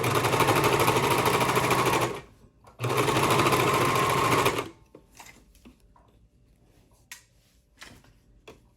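A sewing machine stitches elastic casing on a cozy serged garment, running in two steady bursts of about two seconds each with a short pause between, followed by quiet handling sounds.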